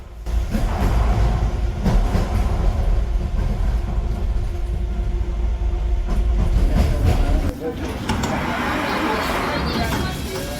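Subway train in a Frontier Developments video game rolls past with a loud, steady rumble and rattling clatter that drops off sharply near the end, leaving a lighter hiss, with talk running underneath.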